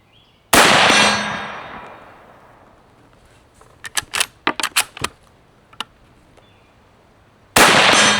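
Two loud, sharp shots from a 7.62x39 bolt-action rifle fired at a target. They come near the start and the end, with a long decaying ring after the first. Between them sits a quick cluster of metallic clanks and clicks as the bolt is worked.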